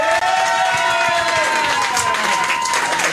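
A comedy show audience claps and cheers for the comedians, with steady crowd applause, whoops and whistles rising over it for a few seconds.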